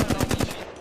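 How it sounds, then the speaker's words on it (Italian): Rapid automatic gunfire in a ranked video game match rattles off in a quick burst of about five close, punchy shots, then fades away. "Mi stanno sparando"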